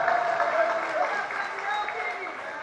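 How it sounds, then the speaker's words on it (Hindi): Audience applause during a Hindi religious sermon, a steady wash of clapping from a hall crowd that continues evenly for the whole moment, close and fairly loud. "ये सभी जो तालियां जो बज रही है"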